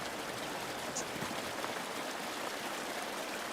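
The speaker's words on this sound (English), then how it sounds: "I never noticed there was a waterfall here." Steady rushing water from a waterfall in the farming game Farming Simulator 22, a broad continuous hiss with a faint spattering texture, heard alone with no speech.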